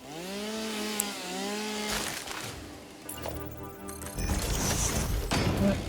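A chainsaw in the Satisfactory video game buzzes and whines while cutting through vegetation, a harsh droning engine tone with rising pitch and crunching, crashing bursts mixed in, fairly close and loud over game sounds.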